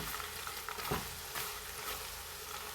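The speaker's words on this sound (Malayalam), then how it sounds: "നമ്മൾ ഇടയ്ക്കിടയ്ക്ക് ഇങ്ങനെ ഇളക്കി കൊടുക്കണം" Cut pieces for chips sizzle steadily in hot oil, a dense crackling hiss close by, broken by a brief scrape and clatter of stirring.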